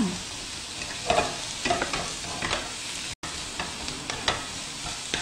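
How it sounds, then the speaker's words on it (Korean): Squid stir-fries on high heat in a pan, a steady soft sizzle broken by repeated scraping stirs and light clinks, with no voices over it. "오징어 이렇게 센 불에 볶으면"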